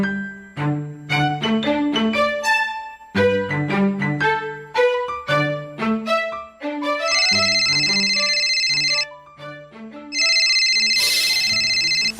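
A telephone rings with a repeating electronic melodic ringtone, loud and close, playing in bursts with brief gaps over a soft musical background.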